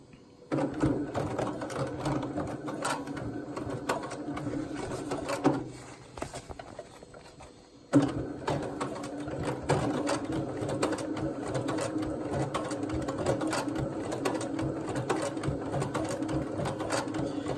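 A SEWPRO 204-2PB-DSE industrial sewing machine sews thick leather with a rapid, loud mechanical clatter, pausing briefly midway, then running again steadily to the end.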